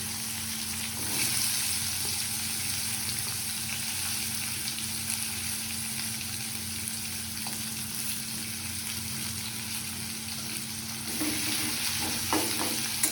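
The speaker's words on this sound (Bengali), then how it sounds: "তেলটা আমাদের সুন্দরভাবে গরম হয়ে গেছে, এরপর আমরা দিয়ে দেবো পেঁয়াজ কুচিগুলো।" Chopped onions frying in hot oil for mutton kosha, a steady close sizzle with occasional stirring scrapes, no talking.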